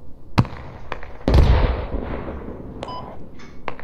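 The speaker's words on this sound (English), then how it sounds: "I'm shooting at it with an SVG." Sharp gunshots from an SVD rifle ring out in the video game Squad, a few separate cracks with one heavier boom and a trailing rumble, fairly loud and close, with no voices over them.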